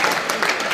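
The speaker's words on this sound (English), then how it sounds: "Let's give him a very big round of applause" Guests at a cancer research charity dinner dance applaud in a brief, loud burst of crowd clapping.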